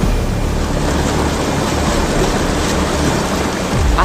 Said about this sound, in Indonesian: Arus deras Kali Krompeng pun turut menggerus tanah di bantaran